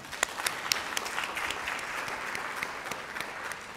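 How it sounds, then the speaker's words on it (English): An audience at a research and innovation welcome event gives the events team a round of applause, a soft, distant crackle of many hands with a few sharper claps standing out near the start. "So I want to give them a big round of applause."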